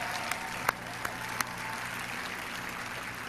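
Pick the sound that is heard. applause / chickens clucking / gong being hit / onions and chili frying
applause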